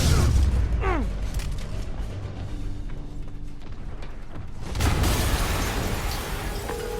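A deep booming video game explosion rumbles early on in Marvel's Spider-Man on PS4, fades into a low mechanical drone, then a second burst of noisy crackle swells near the end.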